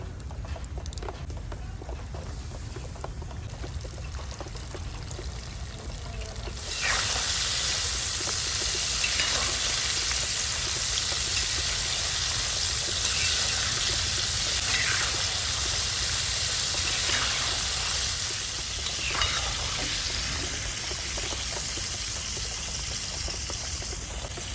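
Coated prawns sizzle and hiss steadily in hot oil, starting quietly and then jumping to a loud, continuous frying crackle after a few seconds, with occasional sharper spits over the rest.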